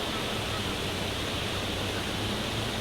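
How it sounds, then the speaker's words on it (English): A flooded waterfall roars as a dense, steady broadband rush, continuous and even throughout with no other distinct sounds. "Look at that waterfall."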